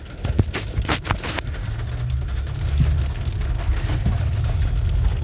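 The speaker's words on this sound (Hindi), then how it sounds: "बड़ी तेज बारिश हो रही कोयटा में।" Heavy rain falls in windy, cold weather in Quetta, making a dense, steady patter on nearby surfaces. A few sharper drips and knocks stand out now and then.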